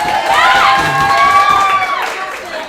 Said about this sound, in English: So please show them some love. Give them a little cheer.